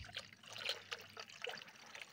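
Water runs into a 4-litre paint bucket as it fills, making a faint, continuous trickle with small splashy spatters and nothing else around it.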